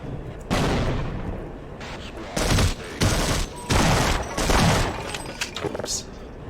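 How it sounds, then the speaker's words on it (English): Grenade blasts and gunfire in Half-Life, with several heavy, booming bursts in a row, loud and close, each followed by rumbling decay. "I think one of them got me with a grenade"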